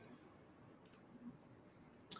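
A single faint, crisp computer mouse click in a quiet room, with a softer click just before it.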